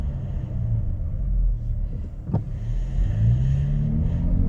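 An automatic car is shifted manually down to second and then first gear while slowing for a stop sign, giving a steady low engine rumble inside the car. There is a brief click midway and the pitch climbs near the end.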